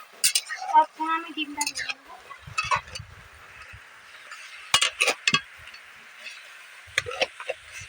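A spatula stirs mango pickle in a pan, giving irregular clinks, scrapes and light metallic knocks in short clusters with quiet gaps between them, close by and fairly soft.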